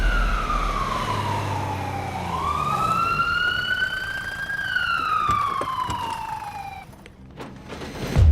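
An ambulance siren wails loud and close, its tone sweeping slowly up and down through one long cycle before cutting off near the end, with traffic rumbling underneath.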